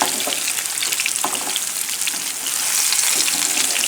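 Salmon sautéing in a frying pan with garlic, ginger and onions gives a loud, continuous close sizzle with crackling spits that swells slightly near the end.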